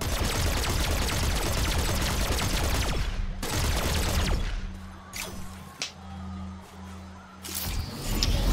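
Gunfire in the video game Rogue Company: a dense, loud stretch of rapid continuous shooting gives way to several separate sharp shots and short bursts over a low rumble.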